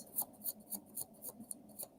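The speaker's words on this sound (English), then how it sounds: "Ooh, that was a good shuffle." Tarot cards are shuffled by hand in a steady rhythm, about eight soft papery riffles and slaps, close and fairly quiet.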